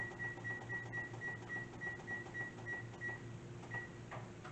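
A kitchen oven's control panel beeps repeatedly while being set to preheat to 425 degrees, a rapid string of short, fairly faint electronic tones over low room hum.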